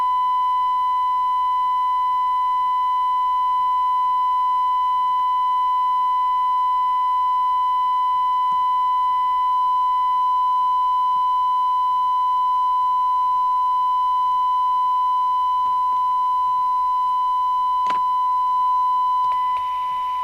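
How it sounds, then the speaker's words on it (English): A steady sine wave test tone from a Harrier WT1 UK FM CB27/81 handheld radio under repair, holding one pitch with faint harmonics for about twenty seconds, interrupted near the end by a few brief clicks. "that's about a sine wave, isn't it?"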